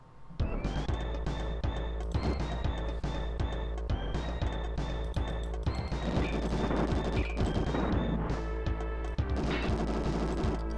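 Gunfire blasting robots in the Bazooka Blitzkrieg video game, a continuous barrage of rapid shots and crashes over steady game music, with chiming pickup tones.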